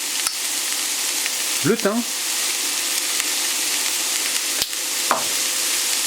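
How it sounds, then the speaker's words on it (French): Onions and thyme frying in a little oil in a hot pan give a steady broadband sizzle throughout, broken by a couple of brief scraping stirs, with a voice speaking quietly over it. "Dans la poêle qui chauffe, je viens y mettre un petit peu d'huile. Ensuite, on va y mettre les oignons"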